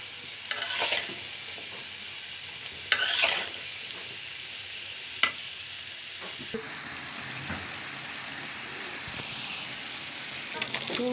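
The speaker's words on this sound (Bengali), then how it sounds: "মরিচের গুঁড়া দিয়ে ভালো করে কষাবো।" Fish curry cooking in a pan with chili powder, stalks, coriander leaves and green chilies, giving a steady soft sizzle with scraping spoon strokes and a few louder clatters, with no voices.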